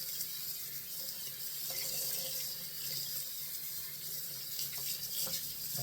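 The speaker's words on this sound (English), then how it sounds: "I'm going to wash out this beautiful brush so you can see" Running tap water pours steadily while a badger shaving brush is rinsed out under it, a close, continuous hissing splash with faint irregular sloshes.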